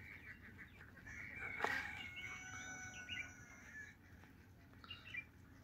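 Ducks gathered on a farm beside a pond give a few faint, scattered calls. The sharpest squawk comes near the middle, over a quiet outdoor background.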